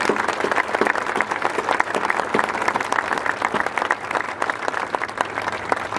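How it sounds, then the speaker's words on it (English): An audience gives a round of applause, steady dense clapping from a crowd for the whole stretch, fairly close and even in loudness with no clear voices over it. "And if you would please give these guys a round of applause."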